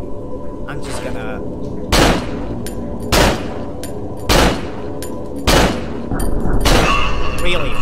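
Gunfire in the horror video game Cry of Fear: four loud, sharp shots spaced roughly a second apart, cutting over constant game music and ambience, with more noise building at the end.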